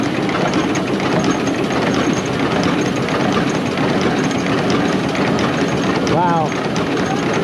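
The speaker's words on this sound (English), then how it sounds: "This thing is a Washington Ironworks diesel yarder from 1928." A 1928 Washington Ironworks diesel yarder engine runs with a loud, steady, heavy rumble throughout, while voices talk beneath it.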